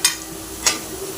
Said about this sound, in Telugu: సాల్ట్ వేసుకొని కలిపేసి మగ్గుతుంది బాగా